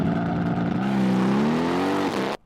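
A 2019 Mercedes-AMG GLC 63s SUV with 503 horsepower launches hard under launch control, the engine note snapping up from a steady rumble into a loud, rising roar that climbs smoothly for over a second before cutting off abruptly.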